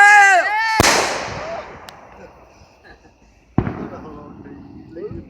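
Outdoor fireworks: a sharp, loud bang bursts out early, followed by crackling decay and a second distant boom a few seconds later, with a person's voice and whistling sounds at the start.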